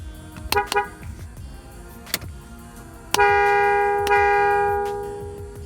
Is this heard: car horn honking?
yes